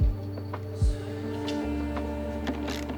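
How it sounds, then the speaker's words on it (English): A power driver whirs steadily while backing out screws from the rear bumper of a BMW X5, with a sharp start and a second motor surge partway through, close and fairly loud. "And now I'll be removing these 3 screws that we just revealed."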